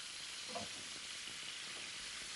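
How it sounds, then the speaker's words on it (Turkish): Meat sautéing slowly in a pan on a Turkish television cooking programme from 1993, a steady close sizzle and hiss with faint stirring scrapes, no voices over it. "Şimdi böyle yavaş yavaş etimizi kızartmadan sote ederek çeviriyoruz."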